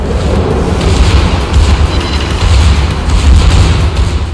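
Heavy main-gun salvo from the Tier 9 German battlecruiser Prinz Rupprecht in a naval combat game, a loud, dense rumbling boom sustained across the whole stretch without a break.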